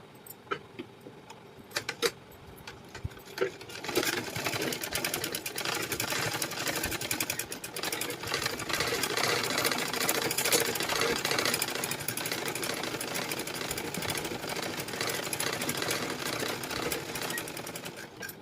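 After a few handling clicks, a sewing machine runs a long continuous stretch of fast, rattling stitching on a blouse lining, loud and close with no talk.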